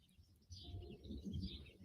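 Birds chirping outdoors, soft high calls scattered over low background noise, faint and fairly distant, with no talk.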